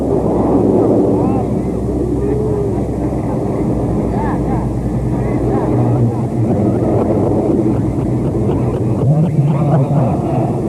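A military transport aircraft drones loudly and steadily overhead as paratroopers jump at a Kopassus 40th anniversary display in 1992, with wind buffeting and a commentator speaking throughout.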